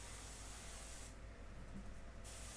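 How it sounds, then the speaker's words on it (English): An airbrush sprays a light paint mixture onto a portrait, a soft continuous hiss of air and paint that briefly brightens, quiet and close, with no talking. "I can take this and spray through it with the light mixture"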